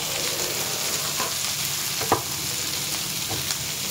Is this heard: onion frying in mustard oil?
yes